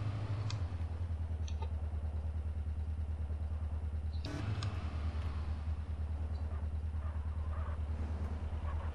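A training motorcycle engine in GTA SAMP during a driving-school exam drones steadily and evenly throughout, with a brief clatter partway through and no voices.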